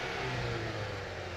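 A 2021 Ford Bronco Sport Badlands SUV engine revs steadily with a low exhaust rumble, close and continuous, no voices.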